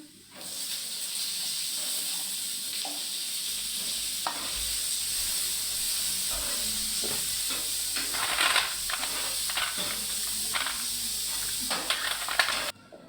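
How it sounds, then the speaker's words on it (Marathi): Tomato roasts on a flat tava pan after onion and cumin, giving a soft, steady sizzle and hiss with occasional light stirring scrapes. "कांदा झाला आता मस्त टमाटा घेतो भाजून"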